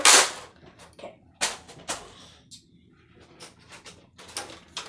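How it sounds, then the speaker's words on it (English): A Nerf Rival shotgun is handled while being loaded and pumped, giving several sharp plastic clacks and snaps spaced irregularly, close and fairly loud against a quiet room. "So, a Nerf shotgun. That's how it comes. Ammo goes in there."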